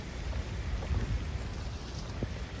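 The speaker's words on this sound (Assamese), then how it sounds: "কি খাতৰা বৰষুণত তিতিয়ে একেবাৰে অৱস্থা নাই" Rain pours down with low thunder rumbling underneath during a visit to the Victoria Memorial, a dense, steady wash of noise with no voices over it.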